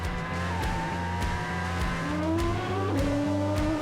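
David Coulthard's modern Formula 1 car screams along a long straight beside a canal, its engine note climbing steadily through gear changes at close range, loud and continuous with no voices over it.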